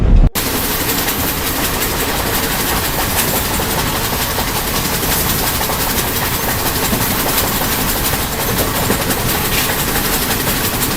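A Hyderabad Duronto Express runs along the tracks, heard from on board as a loud, continuous rumbling roar with dense rattling wheel clatter, steady throughout after an abrupt start, with no talking.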